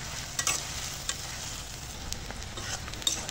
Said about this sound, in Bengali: এখন পেঁয়াজটাকে কিছুক্ষণ ভেজে নেব।